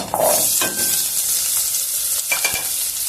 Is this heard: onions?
yes